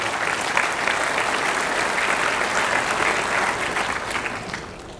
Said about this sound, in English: Let's give them all a good round of applause for doing that.